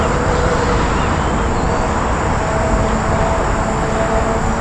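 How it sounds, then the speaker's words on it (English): An Amtrak Acela Express passenger train rushes past northbound with a loud, steady roar that stays heavy and unbroken the whole time. "Here we got Acela Express train 2172 coming north"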